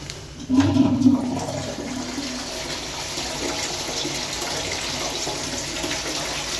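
A low-level concealed cistern flushes a toilet pan, opening with a loud burst of rushing water and then settling into a steady, moderately loud wash and refill that runs to the end without voices.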